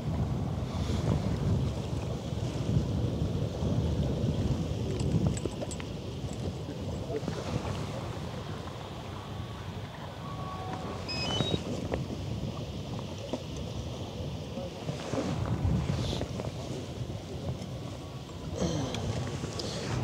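Wind gusting on the open deck of the AIDAprima cruise ship sailing from Hamburg toward Norway, a steady low roar and microphone buffeting with brief louder bursts, faint water and engine rumble beneath, no talk.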